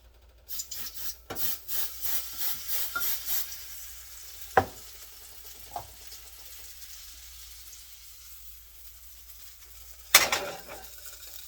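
An egg cooks on a preheated mini waffle maker, with soft sizzling, scraping and rubbing at first, then a quiet stretch broken by a few sharp clicks and clatters from the appliance.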